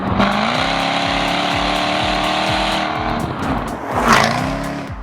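A Jaguar F-Type SVR AWD with its eight-speed gearbox accelerates hard, the loud engine note climbing steadily through repeated upshifts with brief dips between gears, ending in a rising roar with a sharp crackle near the end.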